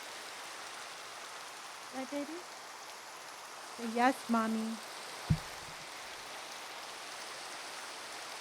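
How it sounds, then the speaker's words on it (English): Minecraft rain pours in a continuous, even hiss from start to finish, while someone speaks briefly over it in short phrases. "Oh, I know, the rain sounds are awesome."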